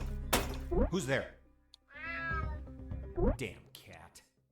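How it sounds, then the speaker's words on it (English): Cat meows in the video game Unmetal, several drawn-out plaintive calls close up, mixed with in-game voices and a sharp thunk. "Damn cat."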